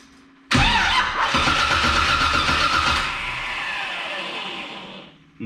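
A 1982 Camaro engine cranks briefly, then catches and roars to life with a loud, close rumble that settles into a rough, steady run before cutting off near the end.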